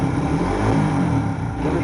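A Honda engine revving on a cold start, a loud continuous rough roar held steady at close range without clear pauses.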